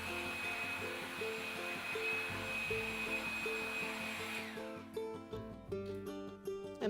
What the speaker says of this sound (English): we're going to take my nice little old school blow dryer and blow dry those bad boys.